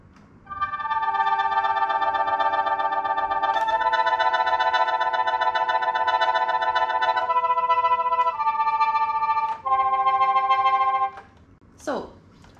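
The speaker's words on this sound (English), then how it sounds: "next we have the husha, which in Western terminology, we call it the tremolo, and it sounds like this." Sheng played with the huasha tremolo technique, a fast shimmering flutter on sustained reedy chords that shift through several pitches over about ten seconds, followed by a brief gliding tone near the end.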